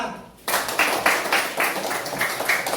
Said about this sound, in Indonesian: Coba tepuk tangan senangnya